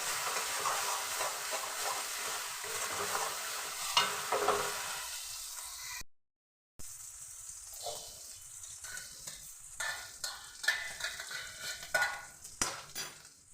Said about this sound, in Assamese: পিঁয়াজখিনি অলপ ভজা হ'ল